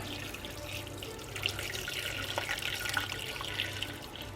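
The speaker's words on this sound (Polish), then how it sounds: "Ponieważ moje słoiki są gorące, zalewam je również gorącą wodą." Hot water poured into a pot over hot glass jars of home-canned pork shoulder goulash, a steady close splashing and running stream lasting throughout with a low hum underneath.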